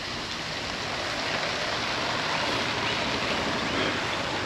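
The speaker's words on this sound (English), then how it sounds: "And here comes the water." Water spraying onto banana plants in a home garden, a steady, dense hiss like heavy rain falling on leaves, continuous and fairly close with no talking.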